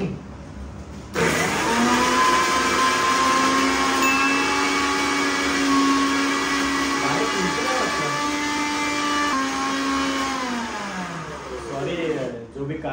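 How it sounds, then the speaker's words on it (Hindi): A kitchen mixer grinder whirs steadily as it grinds a potato and garlic paste, a loud continuous motor drone that starts abruptly and runs for over ten seconds with a slight pitch sag near the end. "मैंने मिक्सर विक्सर एकदम संजो के रखा है, तो अभी थोड़ा मैं इसको ग्राइंडिंग करता हूँ।"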